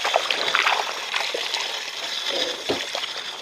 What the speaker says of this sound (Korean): 이렇게 이제 흐르는 물에 씻으면 돼요